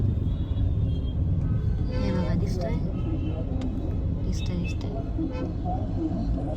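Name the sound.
Delhi road traffic with car horns near Red Fort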